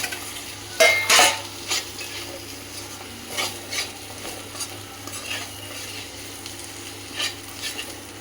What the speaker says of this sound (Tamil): அப்புறம் அளவான அளவு கொஞ்சம் உப்பு, அப்புறம் பொரிச்சு வச்ச வெண்டைக்காய் எடுத்து போட்டுக்கணும்.